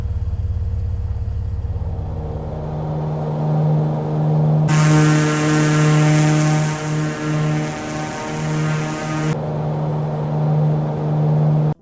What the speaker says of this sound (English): It includes original high-quality digital stereo sounds that's been recorded directly from the real aircraft, which include engine sounds